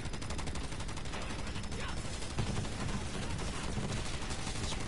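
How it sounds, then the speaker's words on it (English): A big gun blazing in a mech video game, dense continuous rapid-fire bursts and impacts filling the whole stretch at steady loudness, with a player's voice faintly mixed in. "Yeah, big gun, motherfuckers!"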